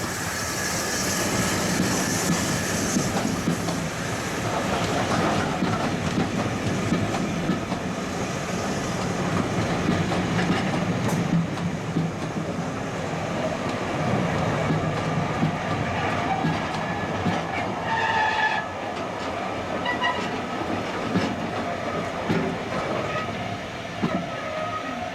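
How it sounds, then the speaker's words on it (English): A British Railways Standard Class 5 steam locomotive train rolls into a platform with a steady, loud rumble and clatter of wheels on rails, brakes squealing faintly as it slows near the end. "British Railway Standard Class 5460 number 73129 is seen running into the down platform"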